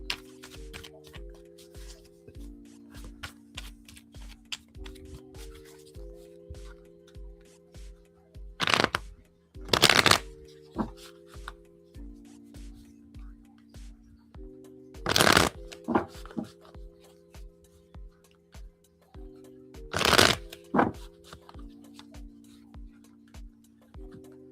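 Fountain Tarot cards being shuffled in repeated riffling bursts, crisp and close, with three louder full riffles standing out over a soft steady tone underneath.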